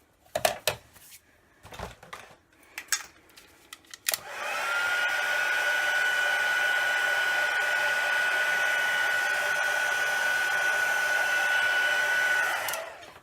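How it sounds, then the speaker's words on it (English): Heat gun drying a stamped paper card, giving a loud, steady whirring blow with a fixed whine that runs for about eight seconds after some light handling clicks. "I'm just going to use the heat gun and dry that off a little bit"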